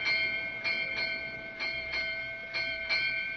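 A ship's bell rings eight bells at midnight in paired strikes, clear and ringing with a steady tonal hum, the pairs evenly spaced over a low rumbling background.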